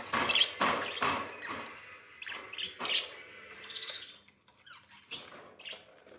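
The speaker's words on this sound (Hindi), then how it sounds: "आनिया खेल रही है मजे से अपने तोतों के साथ, तोते बहुत पसंद है।" Pet parrots make bright, sharp chirps and squeaks in quick bursts with short pauses, close by and fairly loud, interspersed with fluttering and light scrabbling sounds.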